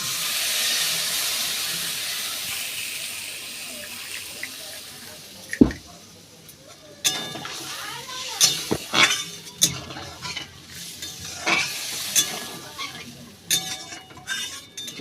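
Water is poured into a pan of sizzling fried masala for a fish curry, opening with a loud hissing rush that fades, followed by scattered clinks and stirring scrapes.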